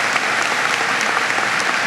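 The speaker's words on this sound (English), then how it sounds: "Give this day a round of applause." A large crowd at a university commencement ceremony applauding, dense steady clapping that fills the whole moment at full volume.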